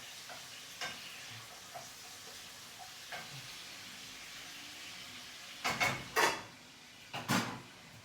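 Artichokes in olive oil sizzle softly in a pan, with a few light scrapes, then a burst of loud stirring and scraping strokes near the end.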